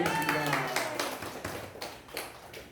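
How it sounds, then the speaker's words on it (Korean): Congregation applauding in a church after a hymn during a Pentecost service, a short burst of clapping that starts over the fading sung note and thins out within a few seconds. "박수 보내겠습니다."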